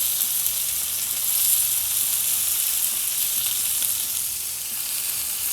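Fish coated in masala fries in a pan, giving a steady, close hiss and crackle of hot oil that holds without a break.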